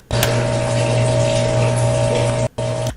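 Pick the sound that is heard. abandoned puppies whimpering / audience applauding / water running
water running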